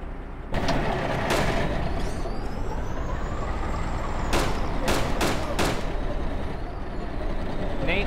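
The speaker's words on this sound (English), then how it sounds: "Nate, that gun is really loud." Gunfire from a loud gun in DayZ snaps out in a few sharp bursts, the first two spaced apart and then three quick shots close together, all over a constant rumbling engine drone.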